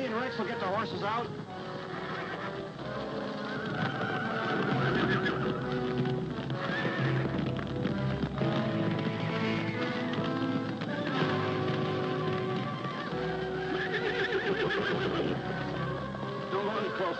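Frightened horses in a TV western neigh again and again while hooves clatter steadily, a loud, busy scene that runs without pause, with voices blended into the mix.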